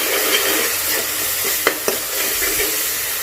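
Ground onion paste sautéing over a low flame for a tamarind curry gives a steady, soft sizzling hiss, with a couple of faint clicks of stirring partway through.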